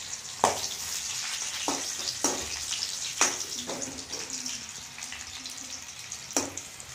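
Dried red chillies fry in hot oil, giving a soft, continuous sizzle punctuated by several sharp crackles and pops spread across the stretch.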